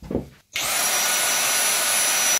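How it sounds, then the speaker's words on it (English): A vacuum cleaner switches on with a sudden loud, steady roar and a high whine while cleaning a PC case dust filter, after a brief muffled bump and a pause. "I might actually grab the vacuum and vacuum it off first"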